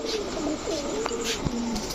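Pigeons kept for sale, such as silver and red Moyna Jhak Giribaz pairs, give repeated low rolling coos close by, layered over a constant bustling background.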